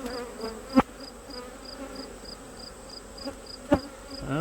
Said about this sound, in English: All these bees.